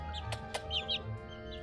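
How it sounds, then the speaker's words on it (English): Backyard chickens, including young Buff Orpingtons, cluck softly at close range in a quick run of short notes mixed with a few brief chirps over a faint background hum. "that is all 8 of my birds"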